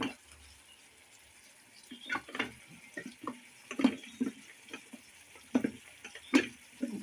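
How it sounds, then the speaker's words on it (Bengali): Water is poured into a cooking pot in a home kitchen, heard as faint, intermittent splashes mixed with light clinks and knocks of utensils against the pot, quiet and close with no talking. "আর এইভাবেই আমি জল দিয়ে দেবো।"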